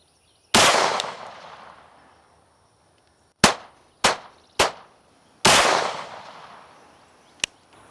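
Springfield Armory Kuna pistol fired from a 6-inch barrel outdoors: six loud, sharp shots with ringing decay, one isolated, then a quick group of three, another single and a final shot, with no talk.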